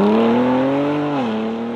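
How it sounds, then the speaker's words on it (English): Ford Explorer Police Interceptor with a Valvetronic exhaust, revving with a steady, loud engine drone that climbs gradually and then dips briefly, close by and alone without talk. "it's kind of incredible really just how similar this car sounds to the Ford GT"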